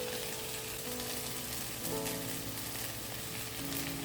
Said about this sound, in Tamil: இங்கே பாருங்கள் கொதி வருது பார்த்தீங்களா?